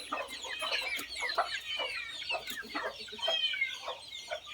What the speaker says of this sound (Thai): ไก่อายุสามเดือนครับ